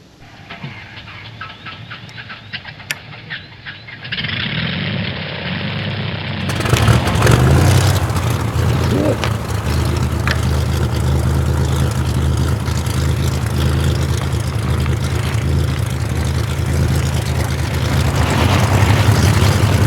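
The engine of a SunSeeker Fat Tad recumbent trike, in a garage, cranks with a few clicks and short bursts, then catches and settles into a loud, steady running rumble that continues to the end.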